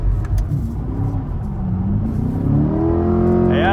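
A Corvette C8 engine pulls under partial throttle, a steady loud rumble with harmonics rising in pitch toward the end as revs climb, no talking over it.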